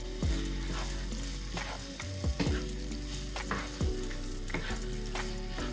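Canned diced tomato being stirred into chicken and onions frying in a pan, producing a continuous sizzle broken by sharp scraping clunks of the spoon against the pan, with no talk.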